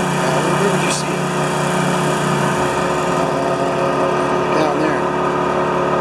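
A stump grinder engine drones steadily and loudly while grinding down a spruce tree stump during tree removal, with people talking briefly over the continuous noise.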